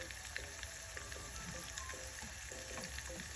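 Masala pasta mixture sizzles steadily in a hot pan as chili powder goes in, a continuous close frying crackle with faint stirring and no voices.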